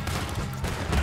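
A loud, brief burst of gunfire from the video game Red Dead Redemption 2, with close, dense shots crowding a single second of combat.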